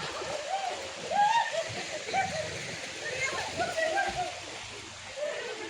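Water from a flowing stream, used as a swimming spot by school children, splashes and sloshes at a moderate distance, with intermittent splashes over a steady flow and voices talking.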